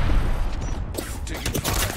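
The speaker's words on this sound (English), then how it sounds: "The enemies are shooting at me. Getting shot at." Enemy gunfire in Overwatch, a busy stretch of scattered shots and bursts mixed with game effects, fairly loud and continuous, with no talking.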